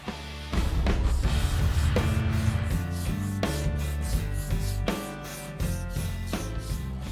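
Repeated rough rubbing strokes of a sanding block on a car body, steady and close, with no voices.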